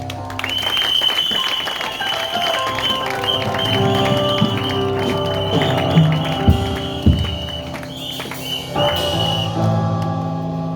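A church congregation claps loudly and continuously for a newlywed couple, dense applause mixed with a few whistles and shouts that carries on for about ten seconds.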